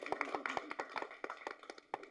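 A small audience at a film press meet claps sparsely and unevenly, with a few scattered hand claps and taps rather than full applause.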